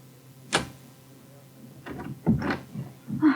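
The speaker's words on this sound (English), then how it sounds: "I'll just unlock the door." A sharp click of a lock followed by the muffled clunks and creak of a door being opened, close by and moderately loud.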